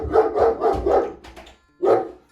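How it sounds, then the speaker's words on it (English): A dog barks indoors at home as a postman arrives, a rapid run of about four loud, close barks, a short pause, then one more bark. "Excuse the dog."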